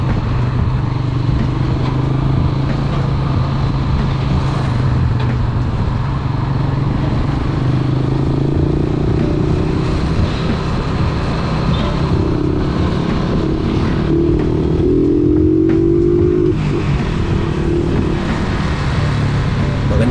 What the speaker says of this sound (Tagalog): Maganda talagang i-overtake ang TMX 155 mga boss.